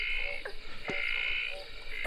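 Tree frogs call on a wet night along a local road, a loud chorus of repeated croaks and trills, close and continuous, with a few sharper individual calls standing out.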